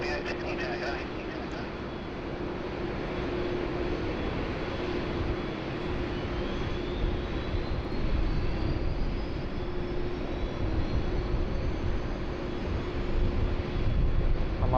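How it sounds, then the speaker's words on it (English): A steady, loud hum from the Rolls-Royce engines of an Airbus A380 at Sydney Airport fills the whole stretch, with a faint high whistle rising slowly in pitch over the drone. "The nice little hum that we get from the Rolls-Royce engines on the 380."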